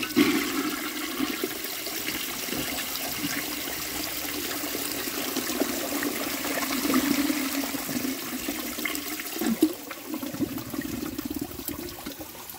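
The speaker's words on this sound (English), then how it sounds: "If the tank's full, let's give it a flush." A 1905 forward-trap toilet flushes: a steady rushing, gurgling wash of water through the bowl lasting over ten seconds, with a slight surge near the end, no talking.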